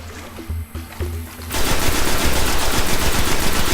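Rapid automatic gunfire from a weapon in the video game Destiny starts about halfway through. It runs as a loud, continuous burst and is preceded by quieter scattered game sounds.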